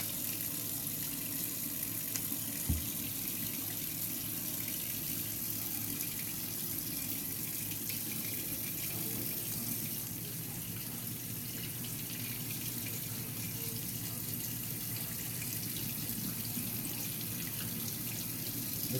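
Tap water runs steadily into a sink during a hair wash between retwists, a continuous even rush held at a moderate level for the whole stretch, with no talk over it.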